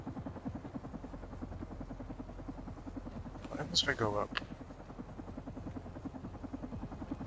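A helicopter in the video game Carrion hums as a steady rotor drone throughout, with someone talking briefly over it in the middle.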